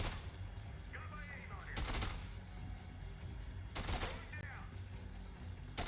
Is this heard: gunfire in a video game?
yes